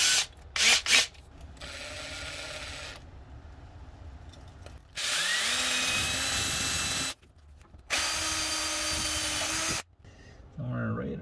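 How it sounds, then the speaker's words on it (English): A power drill bores holes during work on the EFI fuel system of a 1956 turbo VW Beetle. Several loud bursts of high whine run for a few seconds each, with short pauses between them and brief talk around them. "Time to drill some holes."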